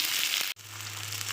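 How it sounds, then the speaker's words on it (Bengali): Slit green chillies go into hot oil with lightly fried potatoes, giving a loud, close sizzle that breaks off for an instant and then carries on steadily. "এবার দেবো 4টে কাঁচা লঙ্কা চেরা, জাস্ট আর একটু ভেজে নেব।"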